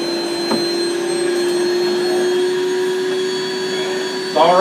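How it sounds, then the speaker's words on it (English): A vacuum cleaner runs steadily during a home demonstration, its loud whining motor drone holding constant throughout, with a brief voice rising near the end. "is your vacuum doing what you bought it to do?"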